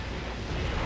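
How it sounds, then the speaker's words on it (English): Bombs exploding in Ratchet and Clank: Up Your Arsenal, a loud, continuous, rumbling blast filling the whole moment with dense low-end roar. "Yep, the bombs."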